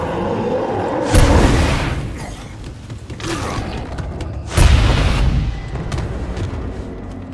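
Two heavy minefield blasts in State of Decay 2, each a sudden loud boom that decays with rumbling debris, spaced a few seconds apart with no talking.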